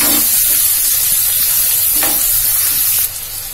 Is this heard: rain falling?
no